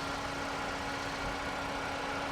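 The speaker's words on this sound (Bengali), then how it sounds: "এসি চলে এসি সাউন্ডটা শুনে আপনারা" Inside a 2019 Toyota Yaris, the air conditioner runs as a steady, faint blowing hum with a low engine drone beneath, constant and unbroken for the whole moment.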